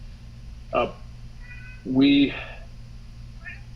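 A cat meows twice close by indoors over a steady low hum, a short cry followed by a louder, longer one, with someone briefly speaking.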